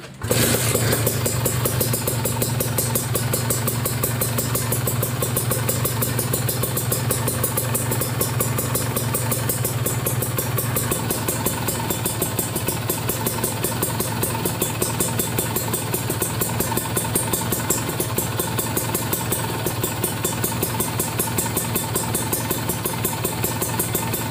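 A Kawasaki Ninja RR two-stroke motorcycle fitted with an Aitech carbon Gen 2 silencer starts and then idles, a steady loud close burble with a rapid even pulse throughout, no talking.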